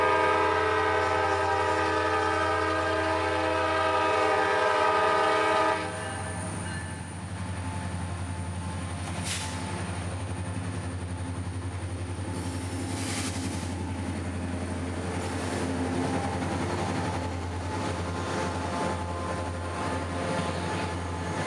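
A CSX freight train led by two rebuilt Jeep locomotives pulls out of Ybor City, Tampa, with a loud steady diesel drone and a sustained horn blast at the start, followed by continuous rolling rumble and clanks.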